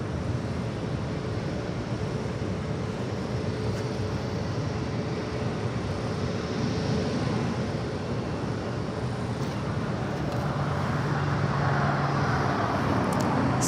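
American Airlines Airbus A321 on arrival at LAX, a steady, fairly loud broadband jet roar that holds throughout, with a rising rush of engine noise building toward the end.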